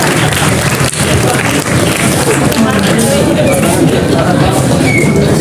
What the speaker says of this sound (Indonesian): Tepuk tangan untuk Ustadz bermateri